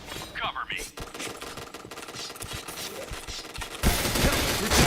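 Rapid bursts of gunfire from the online shooter game Point Blank, a dense fusillade of shots rattling continuously over game noise, with a louder, harsher stretch near the end.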